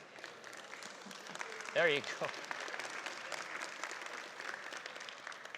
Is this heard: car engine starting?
no